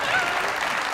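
An audience at a talk-show taping bursts into steady, full applause, a dense wash of clapping that fills the whole moment without pause.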